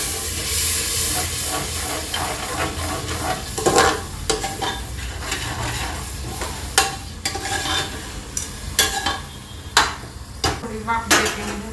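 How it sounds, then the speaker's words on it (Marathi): Mutton keema being sautéed and stirred in a pan after garlic water is added, with a steady sizzling hiss and frying crackle throughout, punctuated by louder scraping stirs and clinks of a spoon against the pan. "आता परतून घेते चांगलं।"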